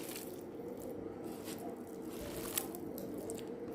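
Hot boiled egg being mashed by hand into a fried green tomato bhaji, giving soft, steady squishing and faint crinkly scraping close up, with no talking.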